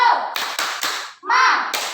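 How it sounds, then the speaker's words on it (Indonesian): A school class of children claps a rhythmic spirit-clap pattern in a classroom, bursts of sharp hand claps in grouped beats with brief pauses, mixed with children's voices calling along. "Tepuk semangat."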